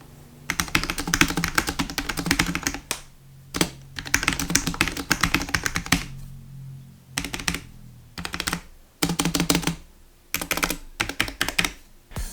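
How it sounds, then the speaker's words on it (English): Typing on a white limited-edition Cooler Master SK630 keyboard, close and loud, in several bursts of rapid clacking keystrokes separated by short pauses, with no voices. "here is a quick sound test for the SK630"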